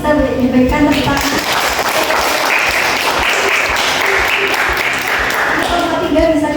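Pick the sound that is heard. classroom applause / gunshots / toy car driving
classroom applause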